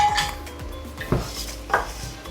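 Raw rice for prawn biryani is stirred and toasted in a pot, a metal spoon scraping and knocking against the pot in a few distinct clanks over a faint background sizzle.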